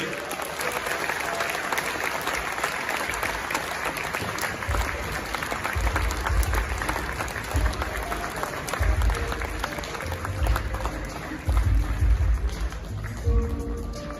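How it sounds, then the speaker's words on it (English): Sustained audience applause at a journalism awards ceremony honoring a winner, a steady roar of clapping across the hall with low rumbling bursts from a sound system, continuing for the full stretch without speech. "We can keep the applause going."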